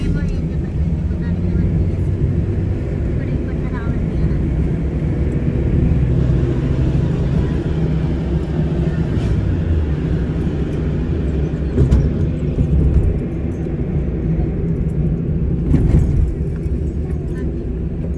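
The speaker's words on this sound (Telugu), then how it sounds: "ఫుల్ ట్రాఫిక్ ఉంది గైస్" Heavy road traffic near a temple during a Vasantha Panchami visit, a dense continuous rumble of passing vehicles with occasional louder surges, close and steady throughout, with voices faintly mixed in.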